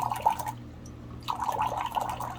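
Water runs from the tap of a Gunneran gravity-fed water filter system in a soft gurgling stream, pausing briefly before flowing again, close and fairly quiet.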